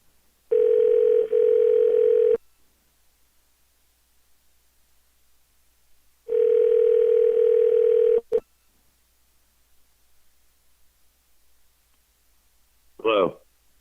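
Two long steady telephone tones separated by a silent gap come through clearly while a call is placed back, followed by a brief click and a short burst of a voice at the end.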